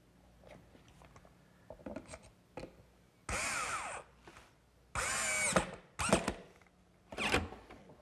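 A power drill drives screws into the base of a wooden bookcase, with several loud whirring bursts of a few seconds each, separated by quieter handling clicks and rubbing, close by.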